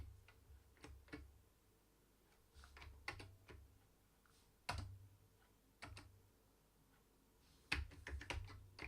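Computer keyboard typing in scattered bursts of clicks and key taps, fairly close but quiet, with pauses between flurries during a live coding session.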